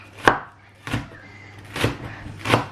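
Spring onions chopped on a cutting board: four distinct knife strikes at uneven intervals, close and moderately loud, with no talking.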